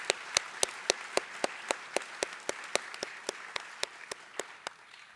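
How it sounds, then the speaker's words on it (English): Applause for a school blood drive committee: a short, thin round of clapping from a small group, with sharp claps arriving in a quick steady patter at close range and slowly tapering off after about five seconds. "Let's give them a round of applause"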